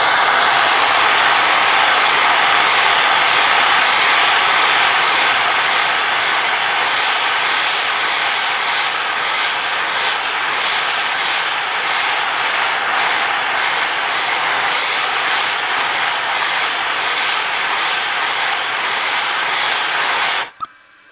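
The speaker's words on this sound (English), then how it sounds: "light the torch, put the lathe on and burn it" A wood lathe spins a wooden pot while a torch burns its surface, giving a loud, steady roaring hiss that holds for about twenty seconds before cutting off abruptly at the end.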